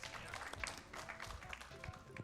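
Audience at a GDQx2018 speedrun event breaks into a burst of enthusiastic clapping and cheering, a dense, steady patter of many hands filling the room for a couple of seconds.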